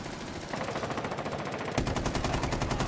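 Rapid automatic gunfire in a video game: a steady rattling stream of shots that grows louder and heavier partway through and keeps hammering to the end.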